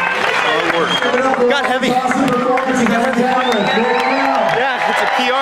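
A crowd at a 2009 men's competition deadlift event cheers and applauds for a lifter, steady loud clapping and whoops filling the space while an announcer talks over it.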